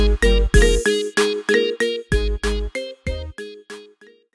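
A marimba ringtone plays a bright, mallet-struck melody of about a dozen clear, evenly spaced notes with a deep bass tone under the first few, each note ringing briefly before the next, loud and close.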